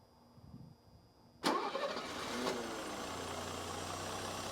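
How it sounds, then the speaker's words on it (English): After a faint hum, a Mercedes M110 engine with Bosch K-Jetronic fuel injection cranks and catches abruptly, revving briefly before settling into a smooth, steady idle close by. "I cannot be more happy than what we're hearing now with the startup of this M110 engine."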